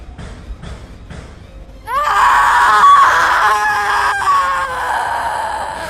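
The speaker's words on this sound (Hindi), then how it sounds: "छलावा ने चीख मारी और अगले ही पल धुएं की तरह गायब हो गया।" A ghostly creature's shrill scream in a horror story, a long wavering wail that bursts out after a few quiet soft sounds and trails on loudly for several seconds.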